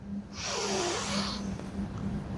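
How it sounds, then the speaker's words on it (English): Participants in a student stress management workshop draw one long, deep breath in together, a soft airy rush that swells and fades over about a second against a steady low hum. "Take a deep breath in."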